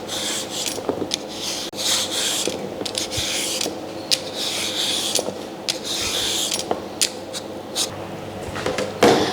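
Close, rhythmic rasping strokes of a peeler scraping skin off produce for som tum, steady repeated rubbing with small clicks.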